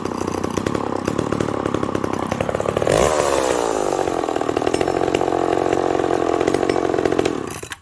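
A McCulloch Power Mac 6 chainsaw running rich cuts through seasoned white oak, its loud, steady two-stroke whine dropping in pitch partway as the chain bites into the wood and holding there under load until it cuts off at the end.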